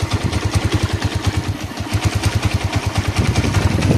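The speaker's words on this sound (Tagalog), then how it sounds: "Kung naririnig ninyo, medyo maingay yung makina niya." A TMX CG 125 motorcycle converted to CDI ignition idles with a steady, fairly loud, slightly noisy rhythmic putter, the single-cylinder firing pulses even and close throughout, with no voices.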